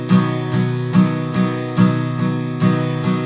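Steady eighth-note strumming on an acoustic guitar, eight even down-and-up strokes of the same chord, close and fairly loud, with no voices.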